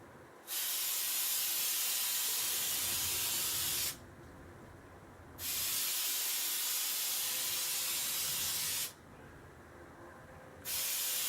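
Rim oil sprays onto a Kentucky longrifle under restoration in three sustained hissing bursts of a few seconds each, close and fairly loud, separated by brief quiet pauses.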